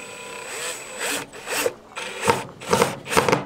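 Screw driven by hand into a homemade wooden climbing hold, heard as rhythmic rasping, creaking twists in short bursts roughly every half second, close and moderately loud, with no talk.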